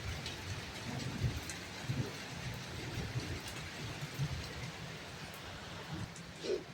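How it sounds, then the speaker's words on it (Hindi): Heavy rain in Pauri, India, hisses steadily throughout, with faint low rumbles of distant thunder rolling underneath. "पूरी बिजली भी चमक रही, इतनी गड़गड़ाहट के साथ बारिश हो रही।"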